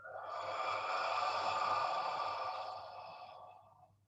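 A slow, audible outbreath during a qigong routine, close and breathy, held evenly for around three seconds before tapering off, with nobody speaking.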